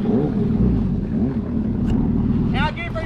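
A Honda Aquatrax R12X or Yamaha Waveraider 700 jet ski engine runs with a loud, steady drone on Bayou Teche, with wind noise and a short voice near the end.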